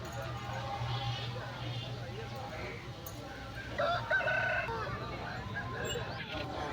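A red rooster crows nearby at a poultry market in Rayachoti, Kadapa district, while someone speaks steadily over a constant background hum.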